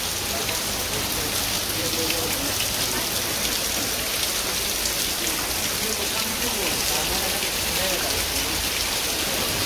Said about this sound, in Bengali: বৃষ্টি ভালো বৃষ্টি হয়েছে